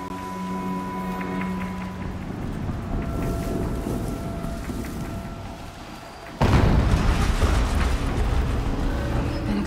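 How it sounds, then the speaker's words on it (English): An explosion in the video game Horizon Zero Dawn: steady ambient game sound gives way to a sudden loud blast and rumbling aftermath near the end. "An explosion."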